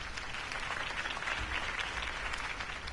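Crowd applause from an audience at a political campaign rally in a Batman video game cutscene, a steady, dense wash of clapping sustained at an even level throughout.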